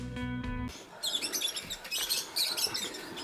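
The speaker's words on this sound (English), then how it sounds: "So there is only one way to make the bird sing." A pet bird sings in bright, rapid chirps and trills that come in repeated bursts, close and clear, after a short musical phrase at the start.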